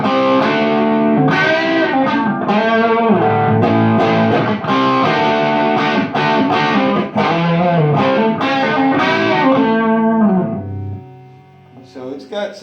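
Electric guitar played through an Orange Micro Dark 20-watt amp with distortion at half gain, loud, chugging chords and sustained notes for about ten seconds, then fading to a quieter ringing tail with brief picking at the end.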